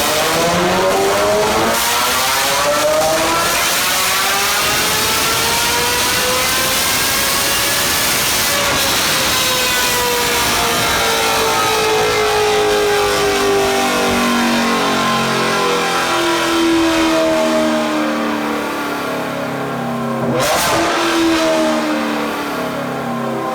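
Ferrari V8 fitted with a one-off Secret Weapon exhaust, loud close engine revving and accelerating, the pitch climbing in long sweeping pulls, dropping back, then rising again, with a sharp crackle near the end.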